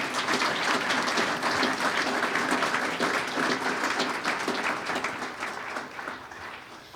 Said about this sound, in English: To Ken and his team, I think that deserves a great round of applause